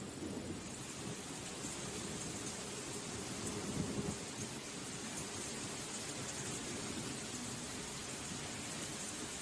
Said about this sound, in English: The rain starts pouring down, like a harsh welcome to the real world.